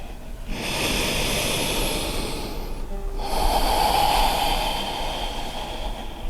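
Steady, calm breathing during a yoga stretch, a long airy exhale that pauses briefly and then resumes, close and fairly loud, with no talking.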